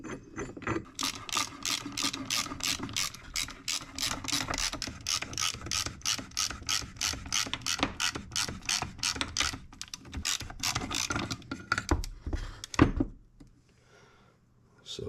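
Crankshaft pusher tool forcing the crankshaft out of a 2008 Suzuki RM-Z250 engine case, a close, steady run of rapid ratcheting clicks for about twelve seconds before stopping.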